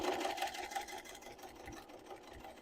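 Sewing machine stitching a quarter-inch seam on a hair tools travel case, a quick steady mechanical whir that runs continuously and eases slightly toward the end, close and fairly quiet, with no talking.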